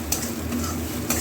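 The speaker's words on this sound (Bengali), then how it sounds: "নারকেলটা একটু ভালো ভাজা ভাজা হোক" Grated coconut frying and being stirred in a pan for a Bengali oal (elephant foot yam) bhorta, with a steady soft sizzle and scraping stir strokes close by, two sharper utensil scrapes standing out.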